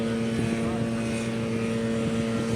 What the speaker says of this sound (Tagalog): Lumilipad-lipad na jet fighter.